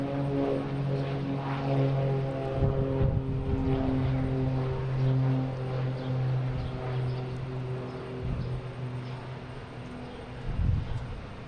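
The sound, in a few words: American Airlines Boeing 777 airliner flying over Boston Logan airport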